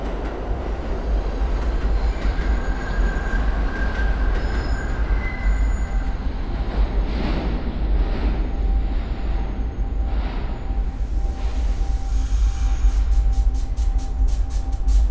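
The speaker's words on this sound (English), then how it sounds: "This is a Dispatch Boulevard bound Amtrak train." An Amtrak train rolls steadily along the rails, a loud continuous rumble of wheels with faint squeals near the end, no voices.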